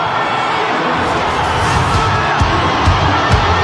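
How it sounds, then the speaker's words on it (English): Roughly 30,000 rugby league fans roar and cheer as the crowd rises at a 2024 NRL preliminary final between Melbourne Storm and Sydney Roosters, a loud, dense, unbroken stadium din with scattered whoops. "And now the crowd rises."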